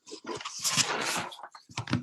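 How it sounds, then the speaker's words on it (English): A dog in the room makes close, uneven whimpering and huffing noises in a quick flurry of short bursts. "I got one of my dogs in here."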